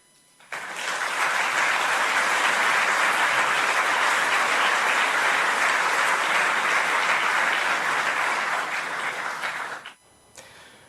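A large audience at the Bled Strategic Forum breaks into loud, dense applause that holds steady for about nine seconds and then stops abruptly.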